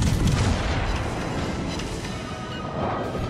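Heavy naval guns of the battleship USS Alabama fire in a sea battle video game, a loud deep boom at the start that rolls into a long rumbling tail.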